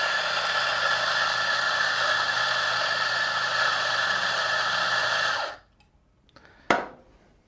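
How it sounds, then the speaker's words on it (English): An espresso grinder grinds coffee beans with a loud, steady whir for about five seconds, then cuts out, followed by a brief sharp clatter. "So grind some coffee here."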